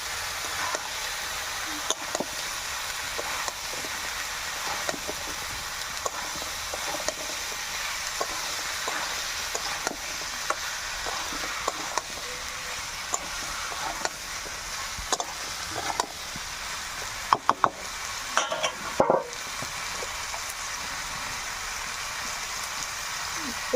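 Mixed vegetables, coriander leaves and tomato being stirred into spices frying in oil in a pan, a continuous loud sizzle broken by frequent clinks and scrapes of the spatula, with a burst of clatter near the end.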